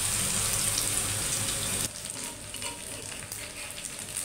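Piyaju fritters sizzle loudly in hot oil in a pan as they are flipped over, a dense continuous crackle that softens partway through. Faint stirring and scraping can be heard, with no voices.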